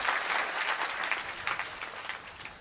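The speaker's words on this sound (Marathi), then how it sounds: "टाळी वाजवा एकदा सगळेजण." A crowd at a Marathi devotional discourse bursts into applause, many hands clapping together in a lively, fairly close patter that fades slightly toward the end.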